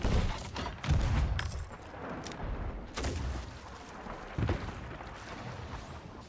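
Ship cannons fire in the Sea of Thieves video game: several heavy booms, a loud cluster near the start and further scattered blasts, each trailing into rumbling decay.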